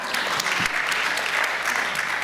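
A crowd applauds steadily throughout, a dense, continuous patter of many hands clapping at moderate loudness.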